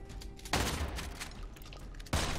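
Shotgun blasts in the video game Immortal Redneck, two loud close booms about a second and a half apart, the first one ringing out with a long tail.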